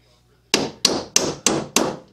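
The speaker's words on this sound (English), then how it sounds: "Drive it down. Don't hammer all the way in until you know you're right on the money." Five sharp hammer blows drive nails into a wooden ventilation box for honey bee hives, evenly spaced and close, each strike ringing briefly before the next.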